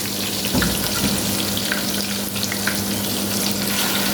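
Chicken pieces going into a pan of frying potatoes with whole spices, giving a loud, steady close sizzle with a few clattering touches near the start and no speech.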